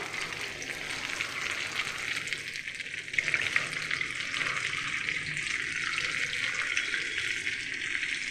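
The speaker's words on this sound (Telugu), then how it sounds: "ఆల్రెడీ ఆయిల్ కొంచెం హీట్ ఎక్కుతుంది చూడండి ఇదిగోండి ఒక్కొక్కటి ఇలా వేసుకుంటున్నాను" Idli pieces dropped one by one into hot oil for idli 65, a continuous loud hiss and crackle of frying close by, with a few brief splashes as pieces go in.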